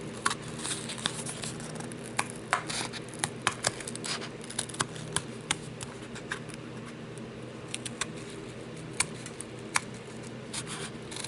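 Hand-cutting thin cardboard packaging with scissors for a gingerbread man ornament craft, a quiet steady background with a series of small, sharp, irregular snips and clicks close by.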